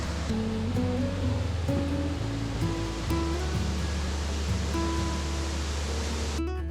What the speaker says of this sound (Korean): 시원스레 떨어지는 물줄기가 보기 좋습니다.